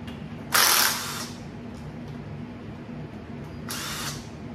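A power tool spins out transmission bolts on a new transmission fitted with a 2JZ adapter, giving two short, loud whirring bursts separated by a quiet gap, close by.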